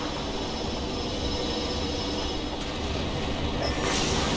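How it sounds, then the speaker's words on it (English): A moving train in the video game Apex Legends gives a steady, loud mechanical rumble with a faint hiss on top. It runs unbroken and alone, with no talk. "Train is moving."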